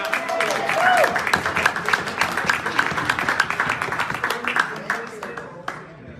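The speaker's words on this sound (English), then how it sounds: "So you gotta make sure you clap on that." An audience at a business presentation claps, with scattered hands forming a loose rhythmic patter that thins out toward the end, while a voice carries on over it.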